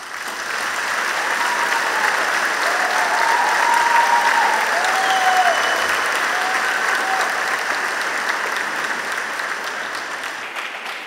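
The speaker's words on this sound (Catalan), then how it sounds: "Jo us aplaudeixo de tot cor." Steady applause from a large audience fills a university graduation ceremony, a dense sustained clatter of clapping that swells slightly in the middle and holds for about eleven seconds.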